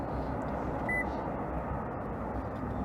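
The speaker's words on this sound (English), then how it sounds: "You'll hear a beep." A single short electronic beep from a Toyota Highlander's remote start system, 2014–2019 push-to-start model, sounding once briefly over a low steady background rumble.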